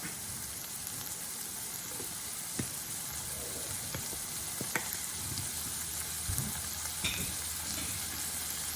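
Garlic sizzling steadily in a hot pan with onions for tacos, a continuous close frying crackle with occasional stirring clicks and pops, no voices.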